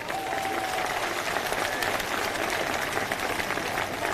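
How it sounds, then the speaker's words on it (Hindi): A crowd at a Bahujan Samaj Party political rally applauds the singers, with dense, continuous clapping from many hands at a moderate distance and no voices over it. "एक बार जोरदार तालियां"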